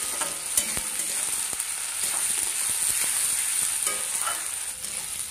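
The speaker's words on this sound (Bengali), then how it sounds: "টমেটো কাঁচা লঙ্কাটাও একটু ভেজে নিলাম, অতিরিক্ত ভাজবো না।" Tomato and green chilies sizzling in a hot pan with oil: a constant, hissing fry with scattered scrapes and clicks of stirring, close and unbroken, with no talking.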